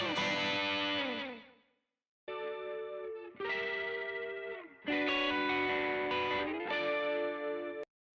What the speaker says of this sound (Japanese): B メロの主軸となってるのはこのクリーンのコードと、あともう一個はこのトレモロっていうエフェクトがかかったギター